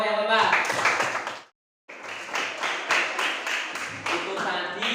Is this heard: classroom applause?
yes